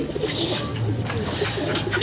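Pigeons coo in low, soft, throaty calls that repeat continuously and close by, with some faint background noise.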